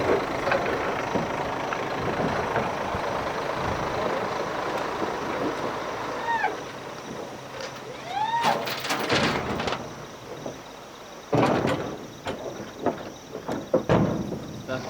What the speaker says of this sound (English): With the rhino safely on board, the truck departs.